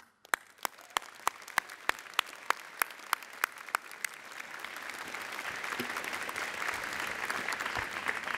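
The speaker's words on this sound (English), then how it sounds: "So please, let's applaud them all." Applause at a 2016 University of British Columbia convocation ceremony, beginning with a few evenly spaced single claps that quickly swell into a sustained, full crowd ovation in a large hall.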